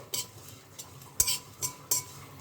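Green chilli and ginger are stirred in a kadai over low heat, four or five crisp metal spoon scrapes and clinks against the pan at uneven intervals over a faint background hush.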